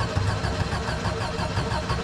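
An older car's starter motor cranks a fuel-injected engine that won't catch, a steady, rapid churning rhythm held close and loud for a couple of seconds.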